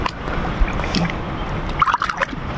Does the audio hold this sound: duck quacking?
yes